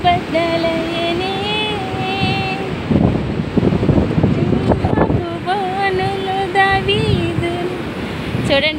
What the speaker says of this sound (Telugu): చూడండి కెరటాలు